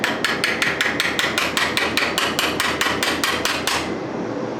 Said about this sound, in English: I'm going to cut some little spiky bits onto this with the chisel, and then heat this up red and squish it around those spikes